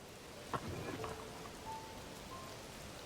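Rain falls in Zelda: Tears of the Kingdom, a soft steady patter that stays faint, with a few brighter drops and small chimes near the start and no talking.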